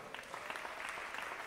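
Audience applause in the hall at a women's 10-ball world championship pool semifinal, a brief, fairly faint burst of steady clapping.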